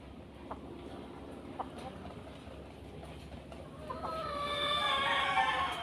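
Poultry sounds fill an outdoor yard: a hen pullet clucks faintly and a rooster crows in the background, with a louder rising noise near the end.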